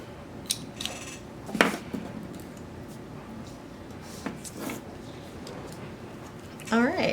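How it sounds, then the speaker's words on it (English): Scissors snip around a floral washi tape piece for a planner spread, giving a few short, sharp cuts and rustles close by, with quiet handling noise between them and a brief burst of sound at the end. "And we'll also cut around this floral."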